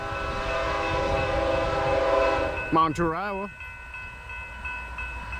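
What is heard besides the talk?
coal train passing with horn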